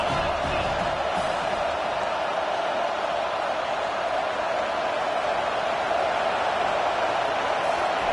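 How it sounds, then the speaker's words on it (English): A football stadium crowd roars steadily on a third-down defensive stand in a Notre Dame versus Penn State game, a dense, sustained wall of cheering and noise that stays loud throughout. "Decibels rising as the crowd gets behind this defense on 3rd down."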